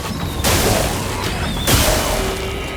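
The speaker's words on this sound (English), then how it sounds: "Sack Attack Explosion." A Sack Attack Explosion skill goes off in Clair Obscur: Expedition 33 with two loud, sudden booming blasts about a second apart, each followed by a rumbling decay.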